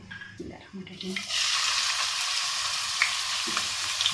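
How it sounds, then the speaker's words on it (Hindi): A sudden loud sizzle as onions hit hot oil, a steady crackling hiss that continues after a few brief voice sounds at the start. "जब ये गर्म हो जाए तो फिर इसमें हम प्याज शामिल करके फिर लहसुन अदरक डालेंगे।"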